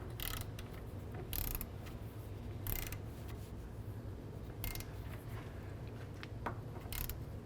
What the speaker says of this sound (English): I'm going to go ahead and torque this bolt down to 100 foot-pounds.